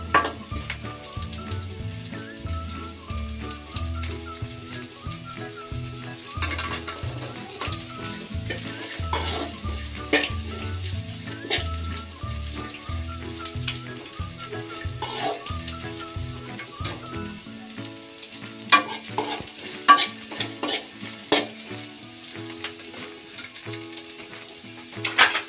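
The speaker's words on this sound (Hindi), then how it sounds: "कैबेज थोड़ा लाइट फ्राई होने के बाद इसमें दूसरे वेजिटेबल मिक्स करेंगे" Cabbage and other vegetables being stir-fried for Hakka noodles: steady sizzling with repeated scraping and clattering of a utensil against the pan in an irregular rhythm, loud and close throughout.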